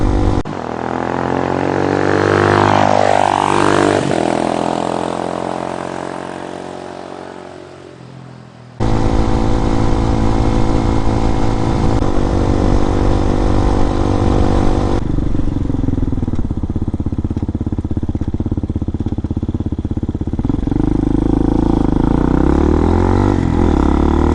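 2019 RPS Hawk DLX 250 motorcycle ridden on and off road: continuous close engine drone that rises and eases with throttle changes, with wind rush and shifting gears over a long stretch.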